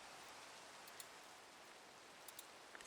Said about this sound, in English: I see that it is raining.